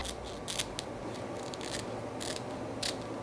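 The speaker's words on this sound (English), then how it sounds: "I'm just going to go ahead and cut 3 sections in my lace." Scissors snipping through wig lace, several quiet, crisp cuts in short bursts with brief pauses between them, close and alone against a faint background.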